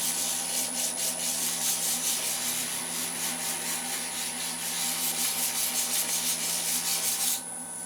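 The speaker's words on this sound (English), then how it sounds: "Just a nice easier way to scuff your blanks up" Resin and pine cone blanks are scuffed with sandpaper in a steady, loud, close rasping that keeps an even rhythm, then cuts off just before the end.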